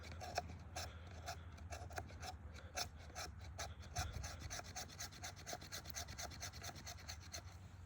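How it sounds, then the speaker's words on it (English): The 90-degree spine of a Boker Plus Mini Tracker knife scrapes fine shavings off wood in quick repeated strokes, faint, close and rhythmic, with no talking. "You can just use a 90-degree spine to take off a bit of shavings here as well."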